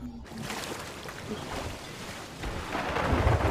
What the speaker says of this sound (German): Der Blitz ist genau mit Luca eingeschlagen.